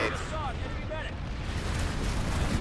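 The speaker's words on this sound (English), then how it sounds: "Lots of grenades." Grenade explosions in a large PlanetSide 2 video game battle, a continuous rumbling barrage of booms under a commentator's voice talking.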